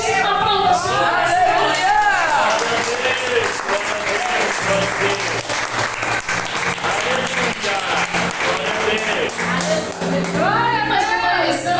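A church congregation bursts into sustained, loud applause, dense clapping running steadily throughout with voices and music mixed underneath.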